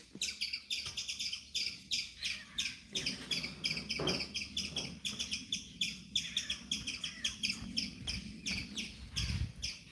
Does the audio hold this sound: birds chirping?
yes